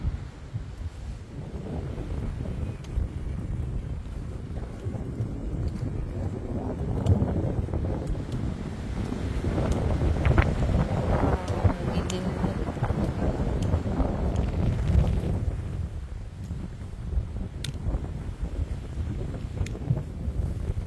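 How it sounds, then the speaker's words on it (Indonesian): Strong wind blows hard during a descent from a mountain peak, a loud continuous roar buffeting the microphone that surges and eases over time, with no talk heard. "Anginnya udah mulai super kencang lagi"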